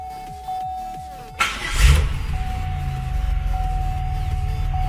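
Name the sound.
Pontiac Grand Prix car engine starting and running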